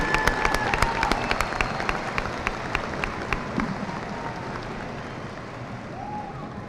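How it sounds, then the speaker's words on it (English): High school graduation audience applauding as students walk to their seats: scattered sharp claps stand out at first, then thin out and fade into a softer room murmur. "Let's give them a big round of applause as they make their way to their seats."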